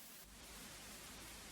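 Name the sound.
simulated preamp noise from a vintage synth plugin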